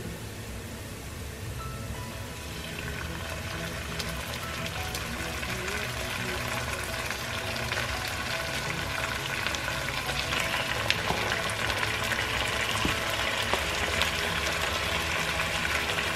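Chicken pieces frying in a pan with browned garlic and ginger for adobo, a dense, crackling sizzle that builds slightly and runs steadily for the whole stretch, close and unbroken by speech.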